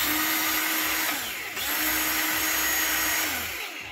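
A cordless Chinese-made Husqvarna-style mini chainsaw, just repaired after stripped gears, runs steadily with a loud, close whirring motor whine and a gearbox hum, briefly dipping in pitch midway before spinning back up.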